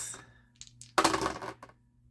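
Dice land and clatter on a surface in one quick sharp burst with a few small rattling hits after it, close and fairly loud in a quiet room.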